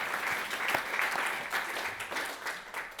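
A conference audience at a vaccine development event claps steadily for a guest standing up in the room, a dense, even wash of applause throughout.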